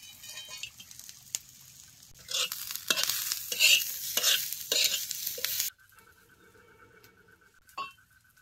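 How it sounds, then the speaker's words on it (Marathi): Onion, whole spices and garlic fry in oil with loud stirring and sizzling bursts for several seconds, then quieter background sounds take over. "कांदा भाजत आला की जरा खडा मसाला लसूण बियात भाजून घ्यायचा"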